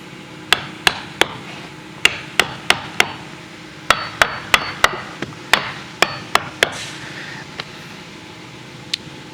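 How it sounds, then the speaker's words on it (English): A hammer taps wooden pieces into place on a rotten Victorian porch in quick irregular bursts of sharp knocks, about twenty strikes, close up over a low steady hum, no talking. "where's my hammer? I'll go ahead and tap them in."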